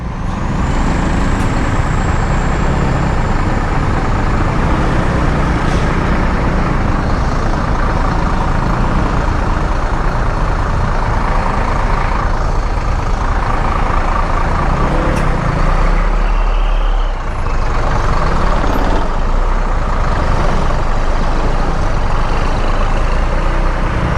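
Heavy trucks idle and rumble in dense road traffic close around a motorcycle, a loud continuous engine drone with air-brake hisses and passing vehicle swells throughout.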